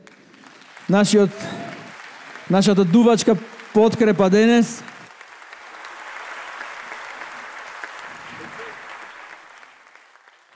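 At a live group concert at a world music festival, someone speaks over the stage mic, then a large audience breaks into loud, sustained applause that carries steadily to the end.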